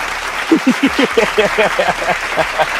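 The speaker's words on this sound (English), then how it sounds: "Y'all clap it up." A watch-party crowd at a Dallas Cowboys vs. New York Giants game claps in quick, uneven bursts, close and loud, with voices and shouts mixed in among the claps over a few seconds.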